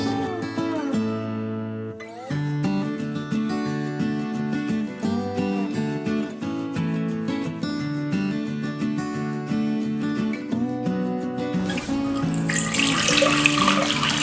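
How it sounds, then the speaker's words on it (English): About 4 cups of water poured into a cooking pot of beans for homemade vegan dog food, a rushing, splashing pour that swells near the end beneath steady background music. "So I do about 4 cups of water."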